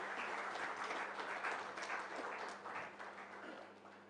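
Conference audience at an HR conclave applauds the speakers on stage, a fairly quiet but continuous patter of many hands in a hall, with a low electrical hum running underneath.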